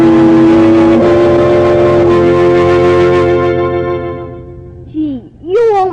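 A car pulls away as a radio drama sound effect, a loud engine droning under a musical bed that fades out, followed by a brief rising whine near the end.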